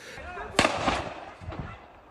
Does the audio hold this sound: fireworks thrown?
yes